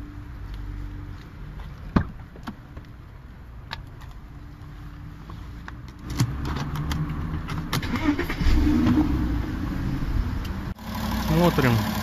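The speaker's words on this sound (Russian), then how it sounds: "Теперь завожу машину." A Porsche Cayenne engine starts after work on its fuel pumps and relays, then settles into a steady low idle after the early clicks and ambient noise of the workshop.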